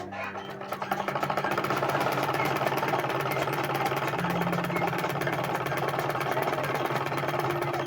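A sewing machine runs steadily close by while stitching a welt pocket, its fast, even mechanical whir humming without a break.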